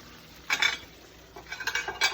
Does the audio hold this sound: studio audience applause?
no